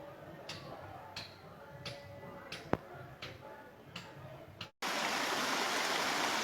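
A mountain stream flows from the Sudh Mahadev conservation reserve, a soft steady trickle with faint snaps and taps, then a sudden louder rush of water close by.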